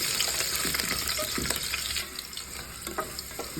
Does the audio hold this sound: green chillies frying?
yes